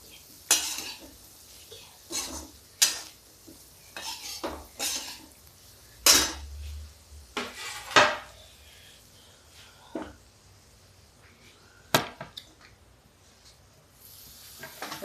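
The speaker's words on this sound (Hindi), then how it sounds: "अब इसी में हम डालेंगे ये जो हमारी आलू फ्राई की भी रखी है।" Fried potato pieces and a little green chili go into a pan for corn chaat, giving a run of sharp scrapes and clanks of a spoon against the metal pan, irregular bursts with quieter gaps between, close and unaccompanied by talk.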